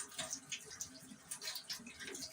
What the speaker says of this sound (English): So I'm going to pour this into the pie shell.